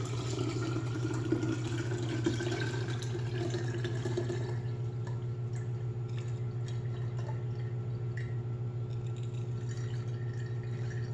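Steady pouring and dripping of horchata through a strainer to remove rice and cinnamon sticks, trickling continuously over a low constant hum, with no talking.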